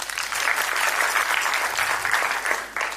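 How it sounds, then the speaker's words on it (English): Steady applause from an audience at a funding pitch event in Thulamela Municipality, Vhembe District, as a woman from the ANC is welcomed up, brisk dense clapping lasting about three seconds with a short dip near the end. "Give her a round of applause"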